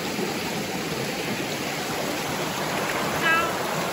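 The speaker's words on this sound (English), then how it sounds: "it goes down into another waterfall here" A waterfall pours in a wooded stream, a steady broadband rushing roar filling the whole stretch at close range, with a faint bird chirp near the end.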